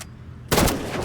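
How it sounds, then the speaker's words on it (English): A single loud burst of gunfire from the Roblox shooter game Rivals cuts in halfway through, following a quieter stretch of background game sound. "I'm gonna get a headshot on this kid."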